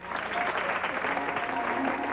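An audience at the Southeast Regional Ballet Competition in the Gusman Center for the Performing Arts applauds in a steady, dense wash of clapping that holds for the full stretch, with a faint hum of voices underneath.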